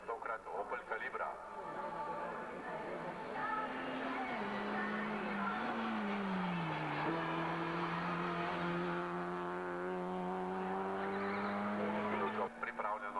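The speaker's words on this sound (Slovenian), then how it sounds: "Avtomobil pa tokrat Opel Calibra." Opel Calibra race car at a hill climb, its engine droning steadily with shifting pitch across the run, partly under a commentator's voice.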